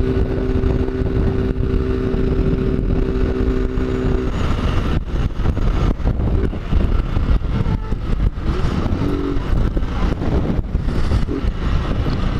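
A 2014 Honda Fan 150 motorcycle rides on a rally-style run out of Aragoiânia, its engine droning steadily under heavy wind buffeting across the microphone, loud and continuous throughout.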